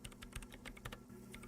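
Rapid computer keyboard typing in the Disco Elysium video game, a busy stream of close, crisp key clicks with uneven rhythm and no voices.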